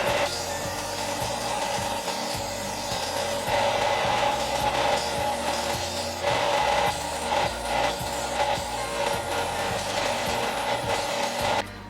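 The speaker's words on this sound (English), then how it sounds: "I've sanded down all of these edges" Rough bandsawn edges of wooden wahoo stickbaits are pressed against a sander with a rest set at 90 degrees, a steady loud whirring rasp with rhythmic pulses as pieces are worked.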